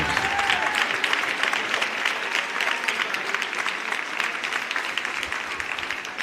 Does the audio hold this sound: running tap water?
no